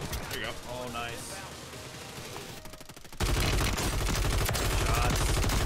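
Rapid gunfire in the Modern Warfare 3 Warzone shooter, with bursts of automatic shots crackling close and loud, then a denser volley that takes over, while a voice talks over the action.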